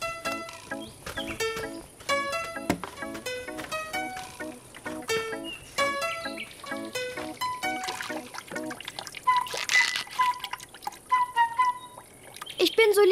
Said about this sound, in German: Ich bin so lieb, dass ich sogar Blumen helfe, weil ich sie gieße.